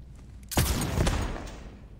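Pistol fired in Borderlands 3, a single sharp blast midway with a booming tail that swells again briefly before fading, loud against a low background hum.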